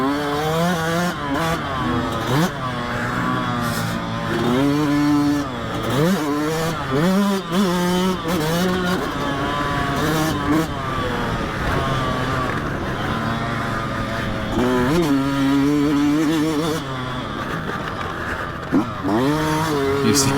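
Yamaha dirt bikes, a 2020 YZ250FX and a YZ125X, racing on a motocross track, with engine tones rising and falling continuously as they rev through the gears, loud and close, one rider following right behind.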